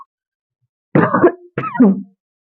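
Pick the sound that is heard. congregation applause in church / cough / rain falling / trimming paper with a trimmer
cough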